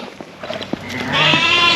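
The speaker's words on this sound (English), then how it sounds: "Now these sheep are dorpers." Dorper sheep bleat loudly while being fed on a farmstay, a long wavering close bleat following some brief rustles and scattered small sounds.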